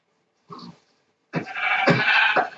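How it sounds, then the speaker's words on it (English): A sheep bleating in the video game Minecraft, a short bleat followed after a pause by a longer, louder wavering bleat, close and clear with no talk. "Here's a sheep."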